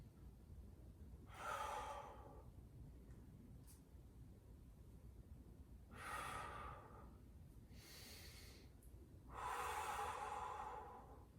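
Heavy breathing during a stretching and mobility routine: three long, forceful exhales come at a slow, even pace, close to the ear, with quiet background noise between them.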